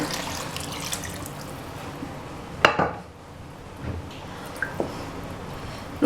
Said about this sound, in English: So we just added more water.